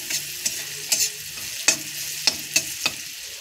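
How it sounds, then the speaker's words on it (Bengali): Spice paste frying and being stirred in a pan, a steady sizzle under sharp scraping strokes that come every half second or so, close and clear with no talking. "তারপরে একটু ভেজে নেবেন, মশলাটা কষিয়ে তারপরে আমি সবজি দিয়ে দিব।"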